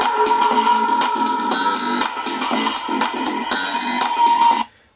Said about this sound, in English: the first ringtone I have is I use as a distinctive ringtone for my best friend